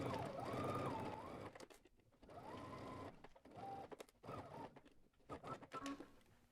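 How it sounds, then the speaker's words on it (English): A sewing machine runs in fast, whirring bursts, stopping and starting several times as it stitches, close by with no talking. "Now we're gonna go to the sewing machine and we're going to stitch"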